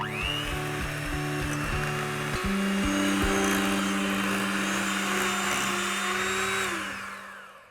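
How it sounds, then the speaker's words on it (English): Unsalted butter and castor sugar are whisked together for a cake batter, a steady close motor whine that shifts pitch a few times early on, then runs evenly before fading out at the end, with no talking. "We are going to whisk the castor sugar and this unsalted butter"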